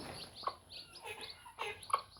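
Newborn Aseel chicks on a terrace farm give high, thin peeping chirps, a few sharp calls scattered over about two seconds, close by and fairly faint, with no talking.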